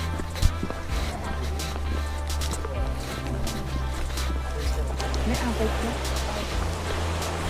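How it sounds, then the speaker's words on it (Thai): Steady rushing water of a waterfall fills the background while people talk and move nearby, with a low continuous rumble throughout. "นี่เราได้ยินเสียงน้ำแล้วนะคะ"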